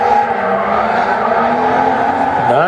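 A 1UZ V8-swapped RX-7 drift car roars steadily through a competition run, engine note holding under load with continuous tire squeal, then pitching up sharply as the driver gets back on the gas before a corner; loud and close.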